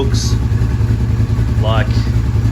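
Engine of a 1999 Honda VTR 250 motorcycle, rebuilt as a cafe racer, running at a steady low idle, close and continuous, with a couple of brief higher chirps over the hum.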